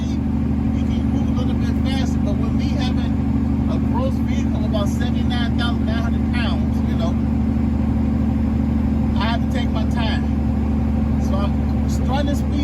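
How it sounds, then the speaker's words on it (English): A truck's Jake brake holds it at about 16 mph on a steep mountain grade, giving a steady low droning engine rumble throughout, with someone talking over it the whole time. "So the Jake brake is doing a magnificent job"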